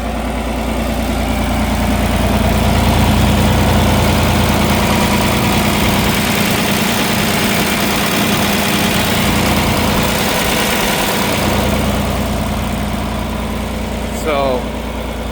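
A John Deere 4020 tractor engine idles steadily and loudly up close, a low rumbling drone with a constant throb that holds for the whole stretch, ending with a short metallic clatter near the end.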